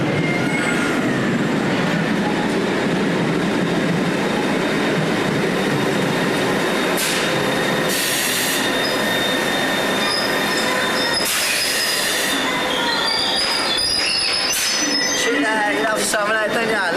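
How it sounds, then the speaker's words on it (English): Train arriving at a station, loud continuous rumble of rolling carriages with high, piercing wheel squeals flaring in several bursts toward the end, while people talk over the noise. "Here's my train, hopefully."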